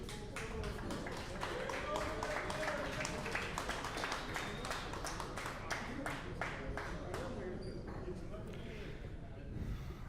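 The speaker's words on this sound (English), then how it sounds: "A round of applause for Ruslan and Shane" An audience at a professional pool match, a billiards challenge event, claps for the players entering, giving a run of sharp, fairly dense applause that thins out toward the end.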